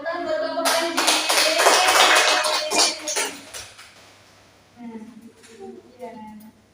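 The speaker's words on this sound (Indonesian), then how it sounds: "tepuk tangan buat Bapak Panji" A classroom of young schoolchildren claps for a teacher, Bapak Panji, a loud burst of dense hand claps for about three seconds that fades out, followed by quieter chatter and talk.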